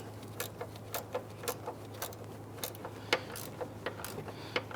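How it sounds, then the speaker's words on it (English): Ratcheting gear wrench snugging down a hood lift support bolt on a 1992-1996 Toyota Camry, giving a run of quick, light metallic clicks in short bursts over a steady low hum, close up with no talking. "Then I'm going to grab my gear wrench here, and I want to snug that down."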